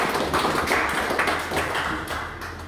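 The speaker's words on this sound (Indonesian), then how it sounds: "Tepuk tangan yang meriah buat Tuhan Yesus." Church meeting audience in Jayapura giving lively applause, a steady patter of many hands clapping at moderate loudness with faint background murmur.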